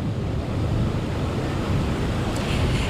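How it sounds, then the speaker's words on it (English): Strong wind buffeting the microphone over surf on Galveston beach by the 61st Street Fishing Pier, a steady loud roar of gusts and waves with no talk. "It is so windy, girl."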